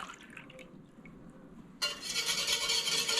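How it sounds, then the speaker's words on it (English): Cold milk whisked in an enamel Dutch oven pot while making homemade mozzarella: near-silence, then a sudden, steady, close liquid swishing and sloshing that carries on to the end. "Let's whisk"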